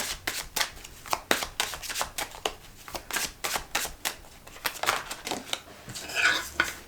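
Magical Nordic Tarot cards are shuffled close up, a fast run of crisp riffling bursts and flicks repeating steadily for several seconds, with no talking.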